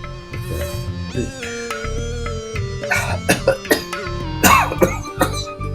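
A person coughs repeatedly in short, harsh bursts, close by, with several separate coughs spread across the moment.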